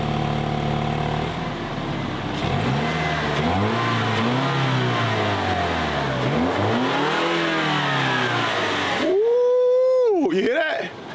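A new car's engine revs hard in sport mode, its exhaust note rising and falling through several loud sweeps close to the microphone, ending with a sharper blip and settle; voices talk over it.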